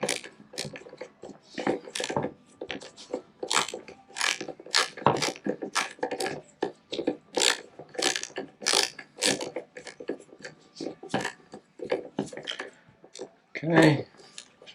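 Screwdriver with a #1 bit driving and snugging small screws during an autopilot install in a Grumman aircraft, with close, sharp ratcheting clicks and metallic ticks in uneven bursts and brief pauses, and no talk.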